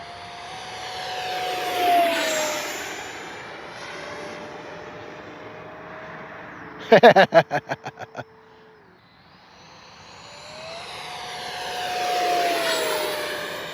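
A Freewing L-39 80mm electric ducted-fan RC jet model flies passes in the evening, its whining fan rising and fading as it approaches and recedes, with a brief burst of rapid clatter midway; no talking.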